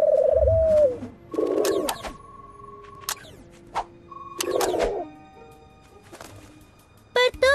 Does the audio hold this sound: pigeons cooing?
yes